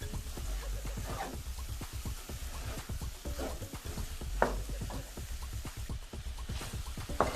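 Carrot halwa with ground cardamom being stirred and roasted in a pan, giving repeated close scraping and mixing strokes over a soft continuous sizzle.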